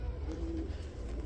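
A pair of Beauty Homer pigeons gives a soft, brief coo over a low, steady background rumble, faint and nearby, with no speech.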